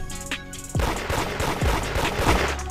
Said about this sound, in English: I'm going to shotgun.